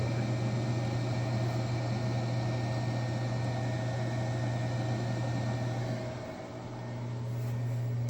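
A Cue Demon CNC spindle held at a steady 15,000 RPM gives a continuous, even mechanical whine with a low hum beneath it, dipping slightly in level briefly before settling back.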